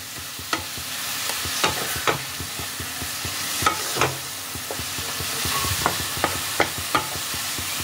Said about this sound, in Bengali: নুন আর হলুদ গুঁড়ো দিয়ে মূলোটাকে ভালোভাবে নাড়াচাড়া করব।